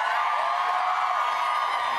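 A studio audience at a live celebrity reality-show launch cheers and whoops in a continuous bright roar, loud and sustained without a break.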